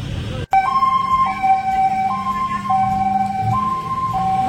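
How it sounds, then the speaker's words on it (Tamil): A Thai ambulance siren wails loud and close on a Bangkok street, alternating between two tones in a steady hi-lo cycle over traffic rumble. "Thailand ambulance. இதுல போனா பாதி உயிர் இருந்தாலும் போயிரும். பயங்கர சவுண்டு."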